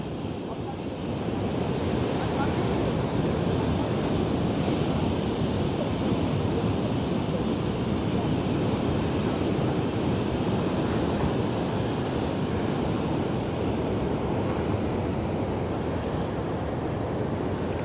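Ocean surf at St Mike's Beach, south of Durban, rolls as a continuous loud roar, mixed with gusty wind buffeting the microphone, with no break or quiet spell.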